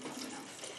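Water pours steadily into a blender of soaked cashews for a sauce, a continuous even rush with no break.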